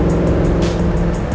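A deep, rumbling exhaust from a Gateway Bronco LUXE-GT Edition SUV drones steadily and loud, close by, with a throaty low growl and no voices.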